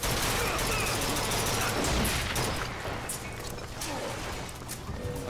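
Rapid gunfire from shooting an enemy in the video game BioShock Infinite, a dense, loud burst of shots and crashes running throughout, mixed with game noise.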